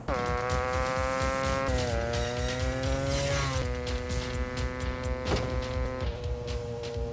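A two-stroke engine revving hard on the pipe at peak power, a loud, steady high-pitched buzzing drone whose pitch dips and climbs several times without pause, alone with no talk.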